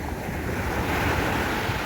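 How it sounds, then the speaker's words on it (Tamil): Sea water surges at Maliya beach in Kuwait, with close, continuous waves rushing and churning, and wind buffeting the microphone throughout. "எந்த அளவுக்கு தண்ணி ஓடுது பாருங்க"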